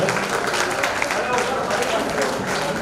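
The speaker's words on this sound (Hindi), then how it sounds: "खड़े होकर भी ताली बजा दीजिए" Audience clapping at a religious gathering with a sermon, aarti and cultural program, a dense, steady wash of applause filling the whole stretch with light crowd murmur mixed in.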